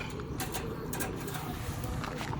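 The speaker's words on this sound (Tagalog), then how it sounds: "Tara, isama yung dalawang kalapati ni Mat." Soft pigeon cooing mixed into a busy outdoor backdrop, with faint voices and bird calls throughout.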